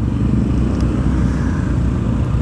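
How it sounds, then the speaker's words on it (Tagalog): Road traffic on San Mateo Road on a Monday commute, heard from a moving motorcycle as a loud, steady close engine rumble with surrounding vehicle noise and no talk. "dito pa lang sa may San Mateo Road ay matraffic na"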